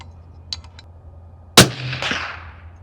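A single sharp, loud report from a suppressed DIY rifle on a shooting range, preceded by faint small clicks and followed by a short decaying echo.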